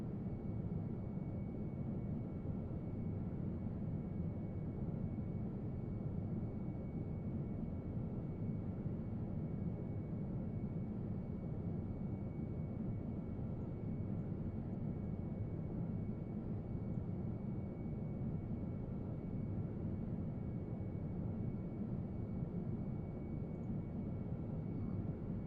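A steady, low, broad roar of a Boeing 777 airliner's engines and airflow on descent to land in a flight simulator game, continuous and even throughout with no talk.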